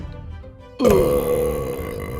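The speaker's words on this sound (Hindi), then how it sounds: "चुड़ैल सब्जियां खा जाती है और फिर डकार लेकर बोलती है" A witch burps loudly after eating vegetables in a Hindi horror-comedy cartoon: one sudden, drawn-out voiced belch that cuts in from quiet and holds for over a second before fading into background music.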